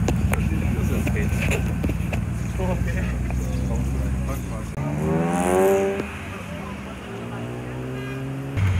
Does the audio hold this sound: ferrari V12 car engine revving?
yes